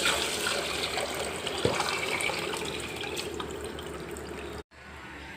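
Water pours steadily into rice for chicken dum biryani, a continuous splashing gush with a brief knock partway through, then a sudden short break before the flow resumes; no voices.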